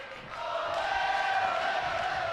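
Wrestling crowd cheering in WWE 2K20, a sustained roar of arena voices that swells slightly and holds steady for a couple of seconds, with no one speaking over it.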